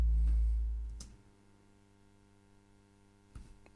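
A deep cinematic boom percussion hit, loud and low at the start and decaying over about a second, followed by a faint low rumble and a smaller thud near the end.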